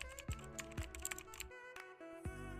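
Typing on a computer keyboard, a quick run of close, crisp key clicks followed by a few slower, spaced keystrokes.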